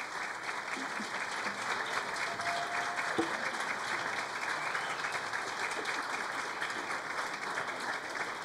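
An audience at a city council meeting claps in a steady, sustained round of applause that stays even in loudness throughout, with no voices above it.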